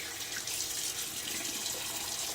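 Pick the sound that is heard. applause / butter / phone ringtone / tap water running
tap water running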